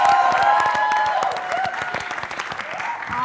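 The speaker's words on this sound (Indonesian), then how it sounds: "Beri tepuk tangan yang meriah teman-teman" A studio audience on an Indonesian TV quiz show bursts into cheering applause while a bright musical jingle rings over it, with the clapping thinning into scattered claps toward the end.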